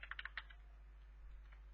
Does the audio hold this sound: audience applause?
no